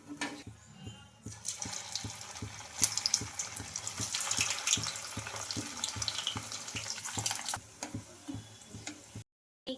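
Coconut vadas frying on high flame in hot oil, a steady close crackle and bubbling sizzle with faint rhythmic ticking, fairly quiet and without talk, stopping briefly near the end.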